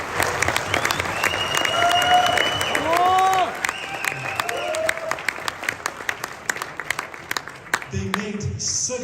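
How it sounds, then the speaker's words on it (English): Loud crowd applause and cheering for the developers at a ZENIQ Smartchain launch event, with whoops and voices rising over the clapping before it thins to scattered claps. "please kindly make a round of applause for the developers of ZENIQ."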